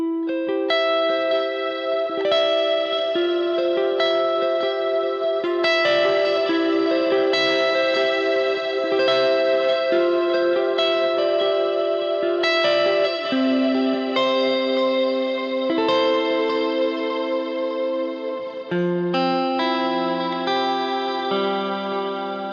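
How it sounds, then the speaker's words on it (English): An electric guitar played on the neck pickup through an Axe-FX III preset with wet chorus, delay and reverb effects carries sustained melodic lines high on the neck. The notes are loud, clean and continuous, with no talking. "let's put some wet effects on, and then I'll do like just some neck pickup stuff up high here"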